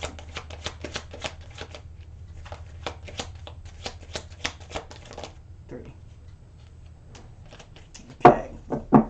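Tarot cards are shuffled by hand in a quick run of crisp riffling flicks up close, followed by a pause and then a few louder slaps and rustles as cards are drawn and laid down.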